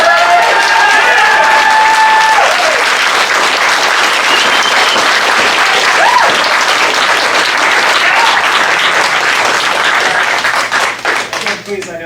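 An audience at a public meeting breaks into loud, sustained applause and clapping that fills the room, then thins out near the end with some voices underneath.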